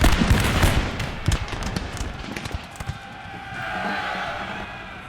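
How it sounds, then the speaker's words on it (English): Scattered musket volleys from skirmishers in Napoleon: Total War, a dense crackle of sharp shots that is heaviest early and thins out, with distant battle noise and a faint high tone behind it. "Now my skirmishers over there are firing"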